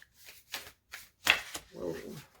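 Tarot cards shuffled and drawn from the deck, a few quick papery riffles and slaps in short bursts at close range, with a soft voice murmuring partway through.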